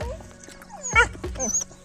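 A dog whimpers and yips outdoors while greens are gathered in the jungle, a few short high whines and yelps close by, with faint talk in the background.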